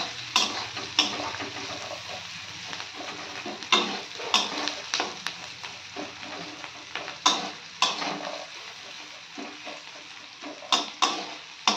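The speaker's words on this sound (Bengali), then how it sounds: "পেঁয়াজগুলো ভাজা হচ্ছে, সাথে কাঁচা লঙ্কা দিয়ে দিয়েছি" Onions and green chillies frying in a pan, a continuous sizzle broken by repeated sharp scrapes and clicks of a stirring spatula at an uneven rhythm.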